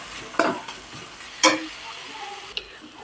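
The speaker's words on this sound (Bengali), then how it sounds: "এটাকে ভালো করে মশলাটাকে কষিয়ে নেব।" Ginger-garlic paste and spices stirred and fried in a pan for an egg and eggplant dish, with a low sizzle and three distinct scrapes or clacks of the spoon against the pan, close by.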